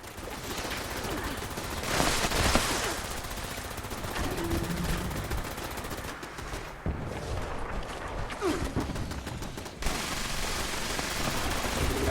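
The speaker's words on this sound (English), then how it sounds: "This is just fun shooting all these mobs." Continuous gunfire from shooting crowds of enemies in Fallout 76, steady rapid automatic bursts with a few heavier booms mixed in, loud and unbroken with game effects underneath.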